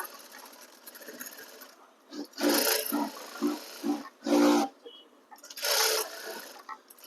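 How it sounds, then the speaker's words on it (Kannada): Sewing machine stitching a blouse lining, running in several short bursts of varying length with brief pauses between them, close and fairly loud. "ಒಂದು ಲೈನಿಂಗ್ ಹಿಂಗೊಂದು ಸ್ಟಿಚ್ ಹಾಕೊಳ್ಳೋಣ"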